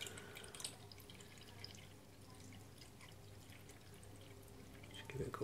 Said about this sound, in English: I'm just putting a tiniest bit of water through.